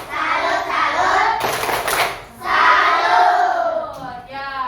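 A group of people claps a rhythmic 'tepuk salut' chant, with loud bursts of hands and voices shouting along together at close range, plus a brief pause partway through.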